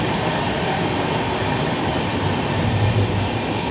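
Loud, continuous rumble and rattle of the moving Bhagalpur–Haridwar special passenger train 03423 between Lucknow and Bareilly, heard from on board as a dense, steady roar with no talking.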